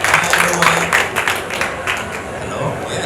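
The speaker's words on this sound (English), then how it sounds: "Give him an applause" A conference audience at an RMIT keynote on Vietnam's digital economy claps to welcome a speaker on stage: a steady patter of many hands, moderately near, fading slightly toward the end, with talking over it.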